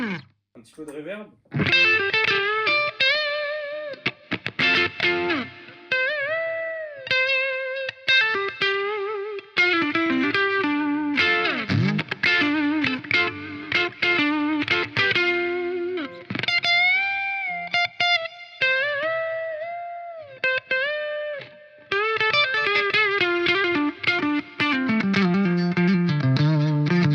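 A Sainte Phoenix electric guitar with a little reverb plays picked notes, slides and bends in a steady loud phrase, with trailing sustain and no one speaking.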